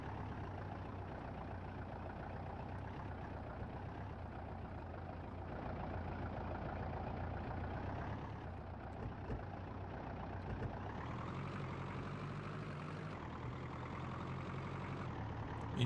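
A truck engine in a rock crawling video game holds a steady, simplistic low idle rumble with a slight rise in pitch near the end, quiet and continuous with no talking.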